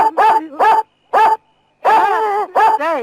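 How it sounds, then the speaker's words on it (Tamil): A dog barks in a quick series of loud, close yips and bow-wows, some drawn out almost into whimpers, with short silent gaps between the bursts, in a Tamil comedy scene. "என்ன பாட்டு பாடி நாய வர வச்சுட்டேன்"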